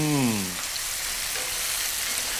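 Garlic sizzling and frying in a pan as the base for a chicken and chorizo paella, a steady close crackle that fills the whole moment after a short low tone at the start.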